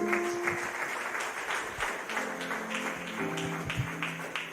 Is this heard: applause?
yes